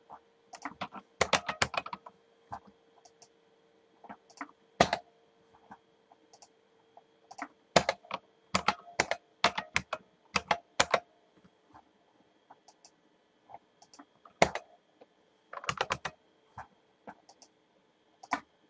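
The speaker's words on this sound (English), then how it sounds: "start typing again." A computer keyboard being typed on, close and fairly quiet: irregular bursts of rapid key clicks separated by short pauses, with no talking.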